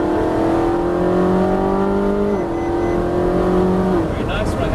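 A car accelerates hard out of a corner on a driving course. The loud engine note climbs steadily, then drops twice at what sound like gear changes before climbing again.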